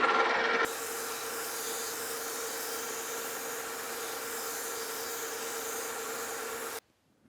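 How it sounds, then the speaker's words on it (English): An emery strip polishes a freshly machined upper wheel shaft for a restored bandsaw, a steady close hiss of abrasive rubbing that runs unbroken for several seconds before stopping abruptly. "I am going to take some emery and just kind of polish this to make sure we got a nice surface on there"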